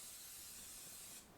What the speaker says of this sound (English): We're going to want to spray that